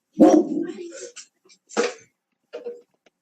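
Dog barking indoors in a few sharp, close bursts separated by short pauses.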